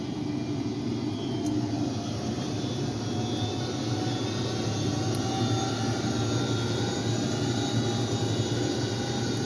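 HH-46 Sea Knight helicopter taking off from an aircraft carrier in Microsoft Flight Simulator X, a steady, broad engine and rotor roar holding constant and fairly loud with no voices.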